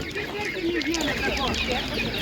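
Chickens clucking at a busy animal market, a steady mix of faint bird calls under near and distant human talk and crowd noise.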